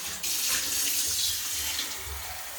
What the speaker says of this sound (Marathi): पाणी घ्यायचं